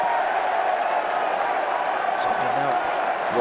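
A football stadium crowd at a Derby County v Sunderland match roars after a goal, a broad sustained wall of cheering and applause under a commentator's voice.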